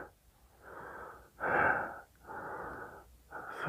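Labored, wheezing breaths of a person trapped after an earthquake, with four drawn-out raspy breaths in slow succession, the second louder and harsher, close and alone.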